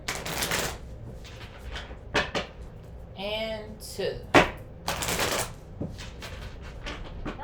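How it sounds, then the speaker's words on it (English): Tarot cards are shuffled in several quick rustling, riffling bursts separated by short pauses, close up. A voice speaks and counts between the shuffles. "Let's do 2 more shuffles."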